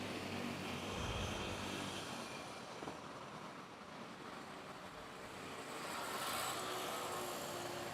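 A distant airplane lands on runway 06 at Manila Airport, heard as a faint, steady broadband jet roar that swells slightly toward the end.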